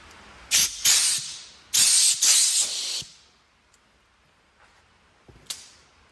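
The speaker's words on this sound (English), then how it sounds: "Before you put your line on, I would recommend to blow it out with compressed air, just to make sure there's nothing in it." Compressed air blasts through an AN fuel line for a 4G63-swapped van's catch can setup: two loud hissing bursts of about a second each, a short pause, then a couple of fainter puffs.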